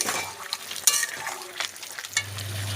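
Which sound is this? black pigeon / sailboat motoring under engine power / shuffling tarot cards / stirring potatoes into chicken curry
stirring potatoes into chicken curry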